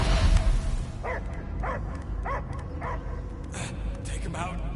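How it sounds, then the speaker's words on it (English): A dog barks in the Guardians of the Galaxy video game, a rhythmic series of five or six yelps and bow-wows over a droning game soundtrack, with voices talking around them. "I hear only barking."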